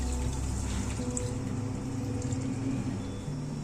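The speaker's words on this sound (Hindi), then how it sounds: "आधा लीटर हम इसमें दूध शामिल करेंगे।" Milk pours steadily into grated petha pumpkin in a wok, a continuous liquid rush running loud and close for the whole stretch with no talk over it.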